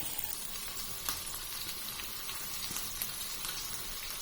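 Chopped onion, ginger and curry leaves sautéing in a hot pan for beetroot pachadi, a steady close sizzle and crackle of frying with faint stirring scrapes throughout, no voices.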